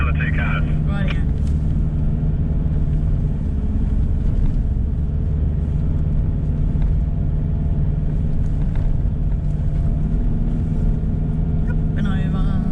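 A car climbing a sand dune on Stockton Beach, its engine a steady low rumble heard from inside that holds under continuous talk from the people aboard.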